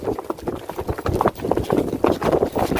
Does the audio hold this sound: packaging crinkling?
no